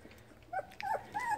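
A puppy whimpers for attention in a few soft, high, rising yelps spaced over about a second, faint and close in a quiet room.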